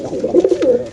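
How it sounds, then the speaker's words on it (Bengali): A large male and female pigeon pair nearby gives a short, loud, low throaty coo of a few wavering notes, heard alone. "কবুতরের ডাকটা দেখাই দিই একটু"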